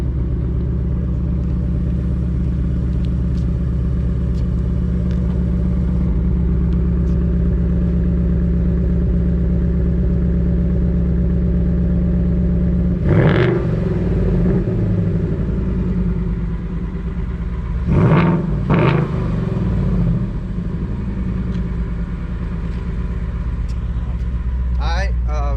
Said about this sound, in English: I'm gonna give you guys a little revs just so you can hear it